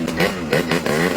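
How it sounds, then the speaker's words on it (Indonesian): A motorcycle engine revs in short repeated bursts, close and loud, with a rough clattering tone rising and falling about three times. "Dengekeun motor urang."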